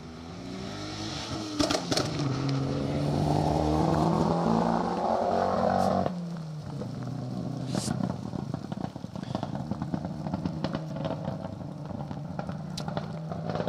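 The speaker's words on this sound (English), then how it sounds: "that Lancia Delta does not sound very well" A Lancia Delta rally car runs rough at a historic rally stage, its engine note loud and uneven at first, then dropping to a fainter, irregular idle with clattering.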